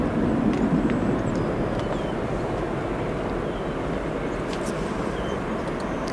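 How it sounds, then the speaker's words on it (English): A Southwest airliner rolling along the taxiway at O'Hare airport after touchdown, its engines giving a steady, broad rumble at moderate distance, with light wind buffeting the microphone and no talking. "Our Southwest taxiing here"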